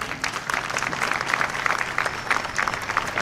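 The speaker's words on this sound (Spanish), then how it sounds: "Fuerte el aplauso" Steady applause from a crowd at a scholarship award ceremony in Ciudad Victoria, Tamaulipas, many hands clapping continuously at moderate volume with no voices on top.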